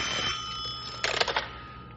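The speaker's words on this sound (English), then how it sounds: "Hey, Bill, phone's ringing." A telephone bell rings in a radio drama, a bright metallic trill that stops and then comes back as a short burst of rapid rings, close and clear with no voices.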